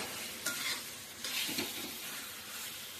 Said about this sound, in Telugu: ఇప్పుడు హైలో పెట్టుకుని దీన్ని కలుపుకుంటూ అలాగే ఒక 5 నిమిషాలు మనము కలుపుతూనే ఉండాలండి.